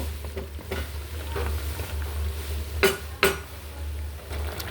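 A cauliflower, radish and fish curry is stirred in a pan: soft scraping over a low, steady background, with two distinct metallic clinks of a utensil against the pan.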